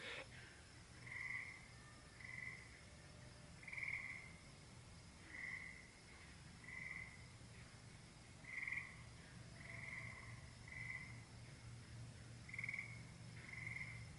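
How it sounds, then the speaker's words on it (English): Frogs, some of them tree frogs, croak in short repeated bursts every second or so, steady and moderately distant, over a low continuous hum of night insects and background noise. "If I'm quiet for a second, you can hear frogs."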